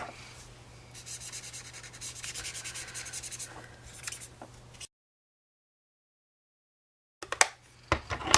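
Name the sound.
rubbing blender pen ink on paper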